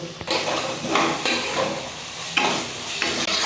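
Masala with a little tomato ketchup stirred in a kadai for aloo dum, a steady sizzle with repeated scraping strokes of a spoon across the pan, close and continuous.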